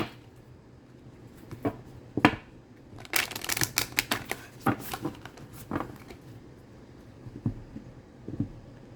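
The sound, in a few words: shuffling cards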